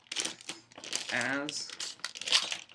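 Cellophane wrapping on an Apple wired numeric keyboard crinkles and tears as it is pulled off during unboxing, crisp close rustling bursts mixed with someone talking.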